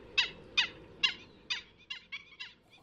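A black-winged stilt calls in a series of seven sharp, high yelping notes, evenly spaced at first and then quicker, clear and fairly close over a faint low background hum.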